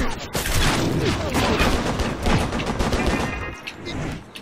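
Gunfire in the video game Stranglehold crackles in rapid, dense bursts with booming impacts and debris, loud and continuous over a few seconds.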